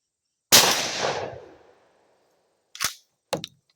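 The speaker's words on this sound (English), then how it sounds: "it's the Mossberg 500 with that 670 turkey choke. And I'm going to shoot the target to the right" A Mossberg 500 shotgun fitted with a turkey choke fires once at a target, a single loud, sharp blast with a long decaying tail, followed by two short, quieter clacks a second later.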